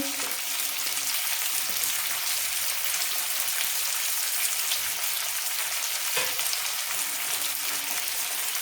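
Steady loud sizzling of small potato pieces frying with cauliflower in a hot pan, a continuous dense hiss with faint stirring scrapes throughout.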